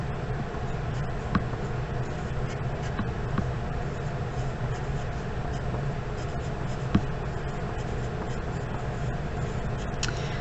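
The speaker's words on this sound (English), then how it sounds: "So we're going to write Edison" A pen writes a word on a surface in a classroom-style lesson, giving faint, steady scratching strokes with a couple of small taps over a constant background hiss.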